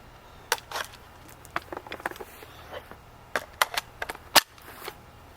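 Barra 400E electric BB gun fired on semi-auto: a series of sharp, crisp snaps in irregular single shots over about five seconds, close and fairly quiet, with one louder crack near the end.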